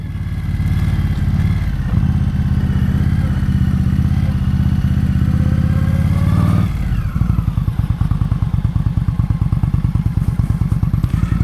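An Indian Scout Bobber cruiser motorcycle rumbles along, a loud steady engine throb that drops off after several seconds into a slower, pulsing idle-like beat.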